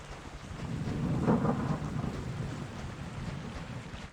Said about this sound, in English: The lightning is very cozy though, I will admit. I love when it's raining.